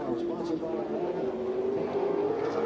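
Kyle Busch's super late model race car running at Five Flags Speedway during Snowball Derby qualifying, a steady engine drone with a slowly rising pitch, heard under continuous commentary.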